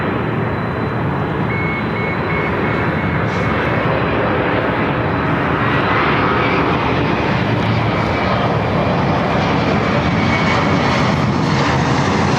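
A Korean Air Boeing 747-8i jet roars steadily at LAX, a loud, continuous broadband engine rumble that holds for the whole stretch without any speech.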